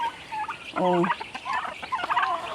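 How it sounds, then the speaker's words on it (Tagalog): Turkeys on a farm give a loud, close gobble, a rapid stacked burst of calls, followed by further scattered gobbling and clucking from the flock. "Mga pabo, enjoy sa mga pabo guys."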